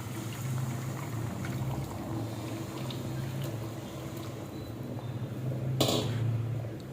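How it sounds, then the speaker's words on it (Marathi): Hot water pours into a pan of egg curry, a steady liquid rush and bubbling lasting several seconds, with a brief clatter near the end. "आता आपण ह्याच्यामध्ये गरम पाणी टाकणार आहे"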